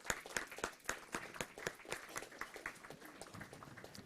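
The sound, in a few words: applause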